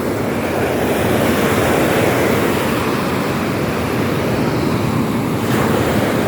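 Rough, murky sea surf crashes and roars without pause during a signal number 2 typhoon in Palawan, loud and close, with wind buffeting the microphone throughout.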